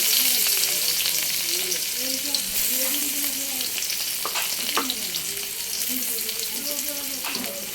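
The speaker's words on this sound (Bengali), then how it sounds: "এখন তরকারি রান্না করার জন্য পেস্ট দিতেছি" Spice paste fries in a pan for a fish curry, a loud bubbling sizzle with stirring scrapes, while a voice talks over it at intervals.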